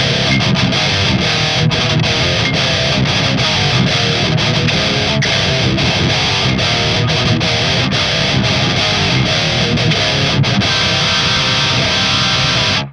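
An electric guitar plays through a Mooer GE200 multi-effects unit set to an 808 distortion patch, giving a loud, dense, continuous saturated tone with rhythmic picked attacks throughout.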